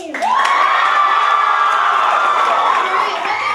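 An audience at a comedy sports improv match cheers loudly for the red team, a dense sustained roar of shouting and whooping voices that holds steady for a few seconds.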